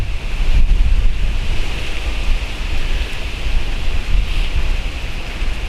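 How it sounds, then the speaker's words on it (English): Medium wind blowing outdoors near a house with autumn leaves, a steady broadband rush with low gusty rumble against the microphone, continuous throughout with no talking. "Wind's medium."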